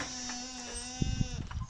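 A sheep bleats in a long, wavering cry at an animal sanctuary, close and clear over a quiet background, with a few soft knocks near the end.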